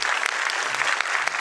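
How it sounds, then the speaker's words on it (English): A room full of people applauds at a graduation convocation ceremony, a dense steady clatter of clapping. "the IT team here deserves a big round of applause"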